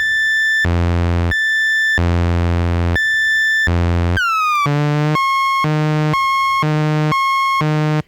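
A loud Dubreq Stylophone Gen R-8 synthesizer tone flips abruptly between two pitches in a steady on-off square-wave LFO pattern, with a brief downward swoop midway before the alternation resumes.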